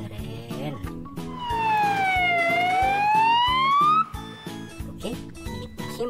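A toy yellow ambulance siren wails loudly in one long sweeping tone that dips and rises over several seconds, with rhythmic background music pulsing underneath.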